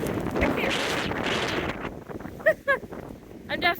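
Strong wind roars and buffets the microphone during a blizzard at Rocky Mountain National Park, a loud continuous rush that eases off midway, followed by a few short voiced bursts near the end.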